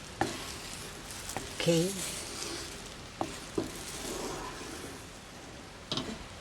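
Milk mixture for pastillas de leche stirred in a pan over low heat, a steady faint sizzle with occasional spoon taps and scrapes against the pan, one short spoken word partway through.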